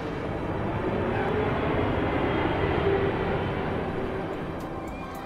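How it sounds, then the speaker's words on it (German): Miniature airport simulation with model airplanes taking off and landing, heard as a steady, continuous engine-like roar and hum at moderate loudness, unbroken throughout. "Die aufwendige Flugsimulation steuert per Software mehr als 40 Flugzeuge, die im Minutentakt starten und landen."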